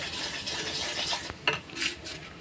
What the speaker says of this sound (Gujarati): આપણે મિક્સ કરીને જોઈ લઈશું.